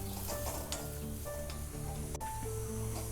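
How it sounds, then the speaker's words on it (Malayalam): Grated coconut frying over medium heat in a pan, giving a steady, quiet sizzle with soft crackles and occasional stirring scrapes throughout. "മീഡിയം തീയിലിട്ട് ഇങ്ങനെ ഇതുപോലെ ഒന്ന് വറുത്തെടുത്താൽ മതി."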